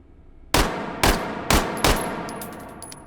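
A gun fires semi-automatically in the virtual reality shooting game H3VR: four sharp, loud, evenly spaced single shots about half a second apart, each followed by a short decaying tail.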